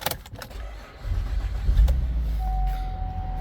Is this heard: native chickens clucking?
no